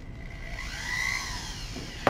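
Flex shaft rotary tool motor, run from a foot pedal, hums in a steady smooth whir with a rising and falling pitch, close by, ending in a short sharp click.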